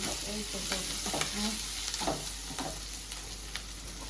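Snake gourd frying in a pan, a steady close sizzle broken by repeated scraping and tapping stirs, with a low hum underneath and no speech.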